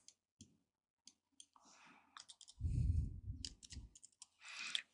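Soft, sparse computer mouse clicks come one at a time while a file is saved in Vue 8 texture software, with a brief low muffled rumble in the middle, in a quiet room.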